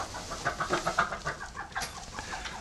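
Ducks inside a hot metal shed give a quick series of close quacking calls, rhythmic at first and then looser, over a faint reverberant background.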